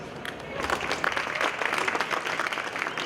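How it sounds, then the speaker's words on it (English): An audience at a startup pitching event claps steadily for panelists, a dense, sustained round of applause from a crowd lasting the whole clip. "we already gave a big hand to our 4 panelists"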